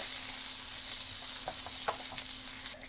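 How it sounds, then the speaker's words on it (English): Vegan tibs sizzle steadily in a pan as awaze chili powder is stirred through, with a constant loud frying hiss and a few scraping spoon strokes near the end. "Now I'm going to mix it all together."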